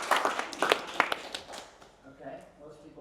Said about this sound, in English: most people clap, that's great